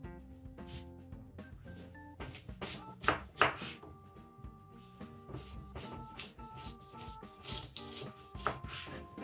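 A knife cuts carrots on a cutting board for a traditional pilaf, with crisp rhythmic chops, some rapid and some spaced, heard close over quiet background music.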